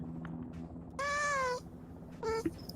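Two meows from a cat in a military simulation video game, a long drawn-out call followed by a shorter one, fairly clear over a low background hum.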